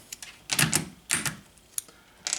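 Keycaps being pried off a Corsair Vengeance K70 mechanical keyboard, a few sharp plastic clicks and snaps spaced out irregularly, close and fairly loud, no talk.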